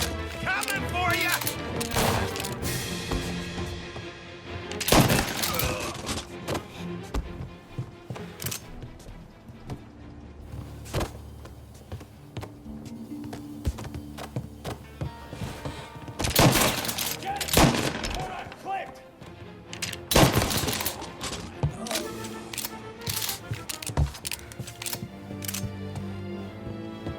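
Gunfire in the game Mafia: Definitive Edition, with repeated shots and heavier bursts around 5, 16 and 20 seconds over a busy layer of game music and effects, while people shout and talk.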